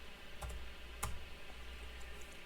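Keys tapped on a computer keyboard while entering dimensions in Revit software, two distinct clicks about half a second apart over a quiet room hum.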